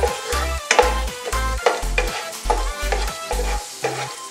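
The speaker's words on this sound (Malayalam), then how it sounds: "അണ്ടിപ്പരിപ്പ് ഒന്ന് നന്നായിട്ടൊന്ന് മൂത്ത് വരുന്ന സമയത്ത് നമുക്ക് കിസ്മിസ് ഇതിലേക്ക് ഇടാം" Cashews and raisins fry in hot fat in a pan for payasam, a continuous crackling sizzle punctuated by repeated rhythmic stirring knocks and scrapes, close and clear, with no voices.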